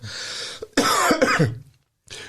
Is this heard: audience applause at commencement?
no